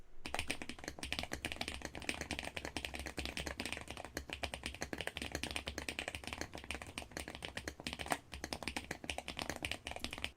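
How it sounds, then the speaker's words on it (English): Continuous fast typing on a custom-built Daring Run DR70F mechanical keyboard, producing dense, soft, muted 'milky' keystroke clacks close up with an occasional heavier key thump, steady for about ten seconds and no voices. "Doesn't this sound like one of the milkiest keyboards you've ever heard?"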